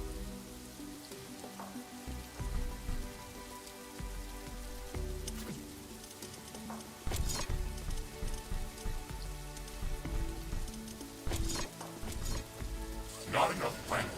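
Steady rain falls in the PC game The Riftbreaker, a continuous patter of drops over a low tonal music bed, with a few brief louder splashes rising above it.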